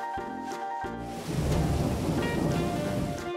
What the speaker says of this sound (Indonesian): Apa aku terkena hujan?